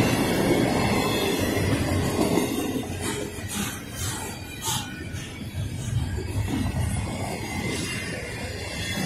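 A Norfolk Southern freight train hauling auto racks, with a distributed power unit near the rear, rolls past close by. It makes a continuous rumble with rhythmic wheel clatter and bursts of high wheel squeal.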